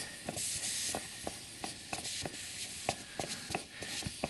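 Air escapes from an unscrewed deflation valve on a Z-pro Tango inflatable kayak as a steady, close, soft hiss, broken by light scattered rustles and taps, with no talking.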